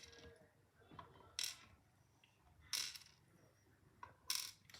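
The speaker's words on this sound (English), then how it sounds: "let's dump these key pins" Small brass key pins spilling out of an Assa 600 lock plug, three quick bright metallic clattering bursts spaced a second or so apart, close but quiet, with no speech.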